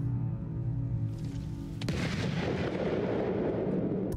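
A sticky bomb made of tar and black powder explodes in the samurai action game Ghost of Tsushima: a low droning ambience gives way near the two-second mark to a sudden loud blast that rumbles on to the end.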